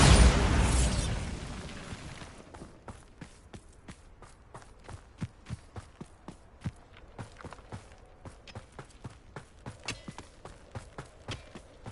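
A Bombarda explosion spell in the video game Hogwarts Legacy bursts loudly at the start and decays over about two seconds, followed by a long run of sharp, scattered clicks and thuds like debris and footsteps.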